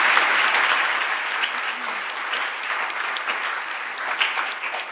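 Sustained applause from an audience of about two hundred at a startup pitch showcase, a dense, loud wash of clapping that tapers gradually.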